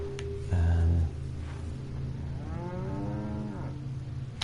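Cattle on a farm in Resident Evil 4 low one after another, a short moo followed by a longer, drawn-out bellow over a constant game ambience hum.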